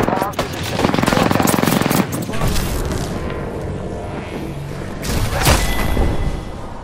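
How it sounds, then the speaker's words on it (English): Airstrike blasts and rapid automatic gunfire in the Apex Legends battle royale game: a dense, loud burst of fire with heavy booming impacts, easing off briefly before another loud explosive surge near the end. "There is an airstrike on our position."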